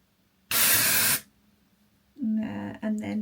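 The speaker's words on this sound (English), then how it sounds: "I think what I try and do is just spray around the roots." Dark brunette root spray hisses from an aerosol can onto the hair around the roots in two close bursts, a long steady spray followed by a shorter broken one after a brief pause.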